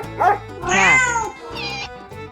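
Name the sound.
cat meowing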